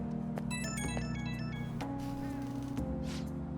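A phone call rings in Persona 5 Royal, a bright, melodic ringtone-like tone repeating steadily over a low game-music bed, clear and moderately loud with no talking.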